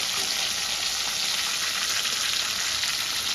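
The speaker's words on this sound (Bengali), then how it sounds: "মাছগুলো আমি লাল লাল করে ভেজে নেব।" Pieces of katla fish frying in oil, a steady dense sizzle that holds loud and even throughout with no pauses and no voices.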